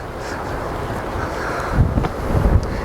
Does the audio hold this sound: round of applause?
no